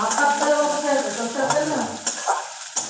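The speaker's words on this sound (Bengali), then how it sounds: "দেখো, পেঁয়াজটা পুরো ভাজা হয়ে গেছে" Onion fries in oil in a pan with a steady, close sizzle, broken by a few light clinks of a spoon against the pan.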